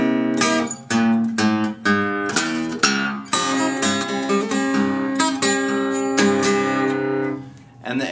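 An acoustic blues guitar picks a lick in fifth position, a run of plucked single notes and bent phrases, close and unaccompanied.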